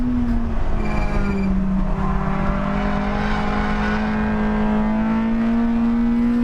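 A hot hatch engine at full throttle on a Nürburgring lap, loud and close, its strong whine climbing through the revs, dipping briefly at a shift near the start, then pulling steadily upward again.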